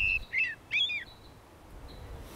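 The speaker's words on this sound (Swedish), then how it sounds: "Koltrasten är väldigt dominerande här." A common blackbird sings outdoors in a river valley, with a few clear fluting phrases followed by a faint trailing note, moderately close against quiet ambient background with no talk.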